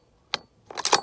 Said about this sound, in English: And that one fell off the target stand.